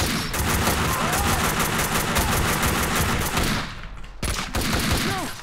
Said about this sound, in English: I don't know where these guys are shooting me from